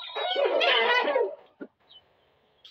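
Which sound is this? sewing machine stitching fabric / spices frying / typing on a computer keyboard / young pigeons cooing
young pigeons cooing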